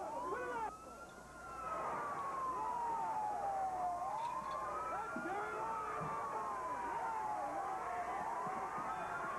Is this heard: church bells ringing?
no